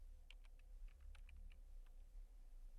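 Quiet keystrokes on a computer keyboard as a command is typed into a Linux terminal, about a dozen light irregular taps over low background hum.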